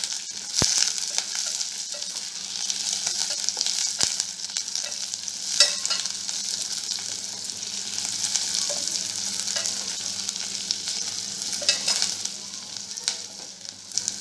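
Capsicum sizzles steadily as it is stir-fried in a hot pan for restaurant-style soyabean chilli, a continuous close frying hiss with occasional sharper crackles and no talking.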